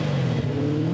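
A 27-year-old, 350 horsepower Aston Martin engine runs loud and close in a steady, throaty rev with a deep rumble and no break, heard alone.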